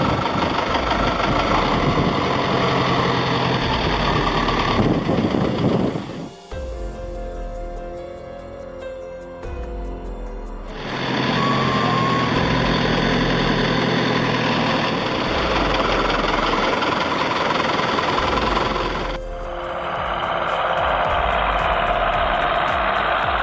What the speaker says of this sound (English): Tractor buried in farmland.